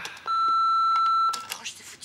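A telephone rings with a steady electronic tone held for about a second, loud and close, followed by a short burst of room noise.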